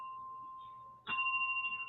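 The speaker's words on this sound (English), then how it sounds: "Hold on. Let me get my bell." A handheld bell struck once in a live studio show, giving a clear ringing tone that carries over a faint steady hum and fades slowly, with no talking.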